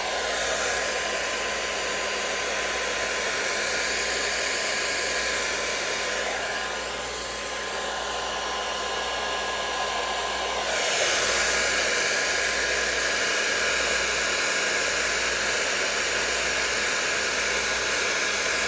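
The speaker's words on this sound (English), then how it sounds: "Always start from the top and work your way down when you're blow drying." A handheld blow dryer with a concentrator nozzle runs steadily while drying relaxed hair, a loud continuous whoosh that dips briefly as the airflow shifts, then resumes at full strength with no talking.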